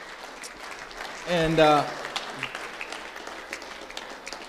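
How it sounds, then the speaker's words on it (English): A church congregation applauds its worship team, a soft spread of clapping running under and around a man's brief spoken word, fairly faint against the room. "Let's just give our worship team a round of applause."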